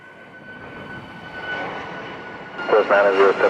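Cargo jet on approach to landing at Montego Bay's Sangster airport, a steady engine roar and whine growing slowly louder, with radio-style talk breaking in near the end.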